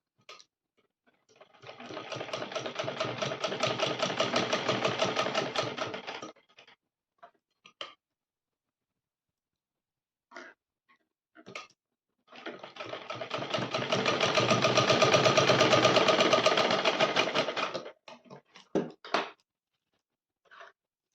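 A sewing machine stitches the seam of a dhoti salwar in two long, loud bursts of rapid whirring separated by a quiet pause, with scattered handling clicks between and after the runs and no talking.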